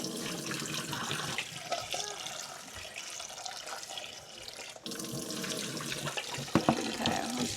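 Cold tap water runs steadily into a kitchen sink to cool freshly boiled eggs, a continuous close splashing rush with a brief dip midway and a few sharper splashes near the end.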